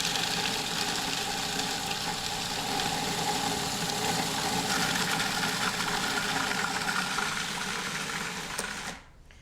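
A food processor runs loud and continuous, pureeing basil pesto with a steady motor whir and chopping rattle, then cuts off abruptly near the end.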